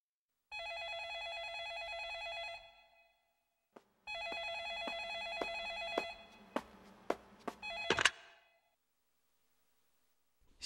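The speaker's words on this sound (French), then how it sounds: "Téléphone." A telephone rings alone in two long electronic trills separated by a pause, followed by a few clicks and a clatter as the receiver is picked up, then silence.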